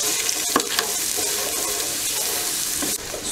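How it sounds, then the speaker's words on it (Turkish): Chopped green and red peppers and onion sauté in a pan, giving a steady, close sizzle with the occasional stir and scrape, no voices. "Soğanlar pembeleşene kadar kavuruyorum."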